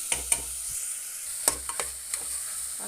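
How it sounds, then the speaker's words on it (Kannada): Vegetables for a veg biryani are stirred in a pressure cooker with soft sizzling and a handful of sharp clinks and scrapes from the spoon against the metal. The sound is close and no one talks. "ತರಕಾರಿ ಎಲ್ಲ ಹಾಕೋತಾ ಇದ್ದೀನಿ. ನೋಡ್ಬೋದು ಇದನ್ನು ಚೆನ್ನಾಗಿ ಈಗ ಮಿಕ್ಸ್ ಮಾಡ್ತೀನಿ"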